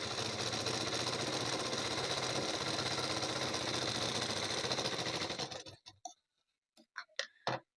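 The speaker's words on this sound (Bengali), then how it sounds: "তো দেখুন আমি এখন চাপ সেলাইটি দিয়ে দিচ্ছি।" A sewing machine runs steadily, top-stitching a seam on a size 38 blouse, its loud continuous whir lasting several seconds before stopping, followed by a few faint clicks and taps.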